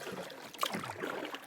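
A solo canoe paddles across a lake in Temagami, each stroke giving a soft watery splash and trickle, quiet and close, with no talking.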